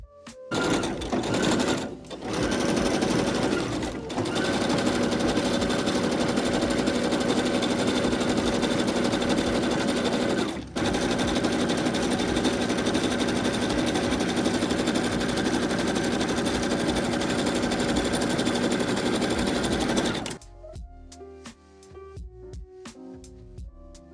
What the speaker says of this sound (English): Here's my overcast foot I'll be using to finish the raw edges.